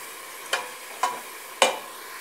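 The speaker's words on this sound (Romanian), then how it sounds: "Pentru început o să ne prăjim carne." Lean meat frying in a pan without seasoning, a steady sizzle broken by three sharp stirring scrapes at even intervals, close by with no talking.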